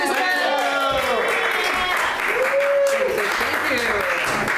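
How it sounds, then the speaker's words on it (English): Live audience applause at a polka music show in San Francisco, steady clapping over the whole stretch mixed with voices and some musical tones, fairly loud and close. "Round of applause for our participants!"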